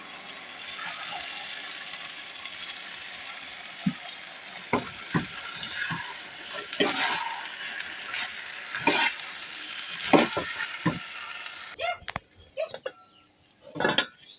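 Chickpeas and potato pieces frying in oil in a pan, a steady broadband sizzle with scattered clinks and stirring knocks, loud and close, quieting briefly before a few sharper utensil taps near the end.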